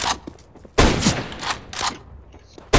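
Gunfire in CS:GO competitive play, likely an SSG-08 match. Loud sharp shots come in separate bursts with gaps between them, and a voice speaks faintly underneath.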